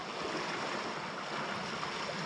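Sea water lapping near a boat on a UK coastline during bass lure fishing, a steady soft wash and rush with no talk over it.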